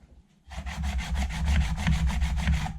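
Steady back-and-forth scraping of a steel chisel on a diamond sharpening plate, rhythmic strokes about four per second, close and fairly loud after a brief quiet start.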